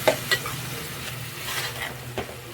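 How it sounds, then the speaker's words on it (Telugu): Chili powder being mixed into a frying tomato and egg curry, a close steady sizzle with a few distinct scrapes and knocks of the spoon against the pan. "కారం పొడి వేసిన తర్వాత దాన్ని బాగా కలపండి"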